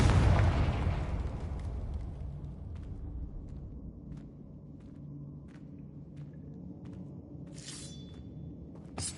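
A Confringo fire spell bursts in Hogwarts Legacy: one loud, close blast that trails off into a long low rumble, with a few faint pops and a brief crackle near the end.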